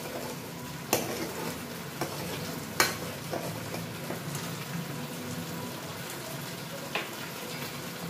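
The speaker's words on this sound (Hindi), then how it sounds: "और इसको एकदम फाइन फ्राई करेंगे। ये हमारी दही की ग्रेवी तैयार हो रही है।" Yogurt gravy frying in a pan for Rajasthani besan gatte curry, a soft steady sizzle with a few sharp scraping clicks of a spoon stirring, heard close with no talk.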